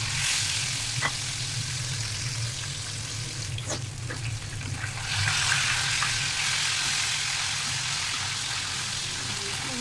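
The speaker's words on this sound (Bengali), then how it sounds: "তেলটা গরম হয়ে গেছে, এখন মাছগুলো দিয়ে দিচ্ছি।" Hot oil sizzling and crackling steadily as fish fries, the hiss growing louder midway, with a few sharp pops and faint clinks.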